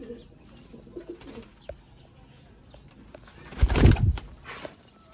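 Sialkoti pigeons cooing softly nearby, with a brief loud burst of wing flapping partway through and faint background murmur.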